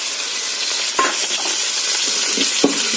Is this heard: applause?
no